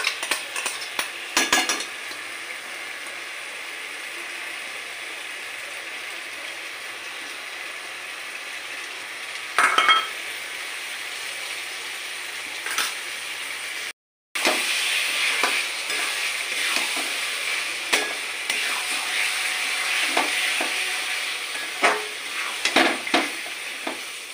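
Chicken korma with yogurt fries in a pan, a continuous close sizzle broken by spoon scrapes and clinks against the metal, with a brief dropout midway and no speech.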